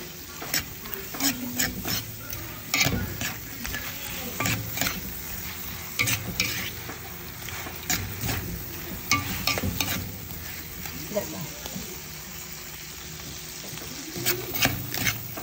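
Buttered shrimp being stirred with gochujang paste in a frying pan: steady sizzling with repeated scraping and clinking strokes of a utensil, close and fairly loud, no talking.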